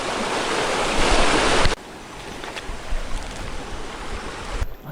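A rain-swollen river rushes steadily nearby at crab-catching time; a loud, dense roar gives way after about two seconds to a softer, nearer babbling flow, with no voices.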